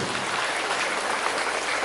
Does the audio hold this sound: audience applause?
yes